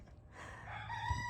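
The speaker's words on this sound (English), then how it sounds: "So 15 rooster crows per minute." A rooster crows once, faint and somewhat distant, rising into a drawn-out call outdoors on a farm.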